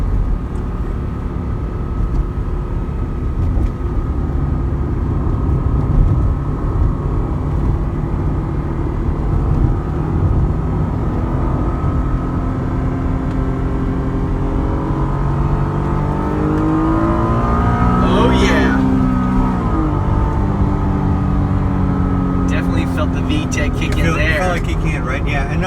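A 1997 Acura NSX with a V6 and six-speed gearbox pulls hard on a freeway, its engine note rising steadily in a smooth, continuous drone with a sweeping pitch change near the end, loud and close throughout.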